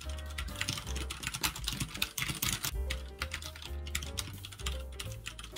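Steady typing on a quiet Lenovo ThinkPad wireless Bluetooth keyboard, a close, rapid run of soft clacking keystrokes with light irregular rhythm and occasional heavier key hits.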